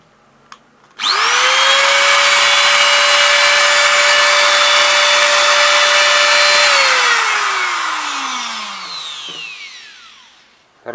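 An Interskol UShM 125/900 angle grinder, freshly fitted with new brushes, starts abruptly and runs at a steady, loud, high whine for several seconds, then is switched off and winds down gradually, alone and close.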